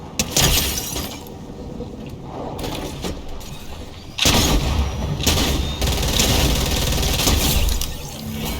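Rapid bursts of Fortnite gunfire and crashing impacts, dense and loud, with a heavier barrage kicking in midway and continuing to the end.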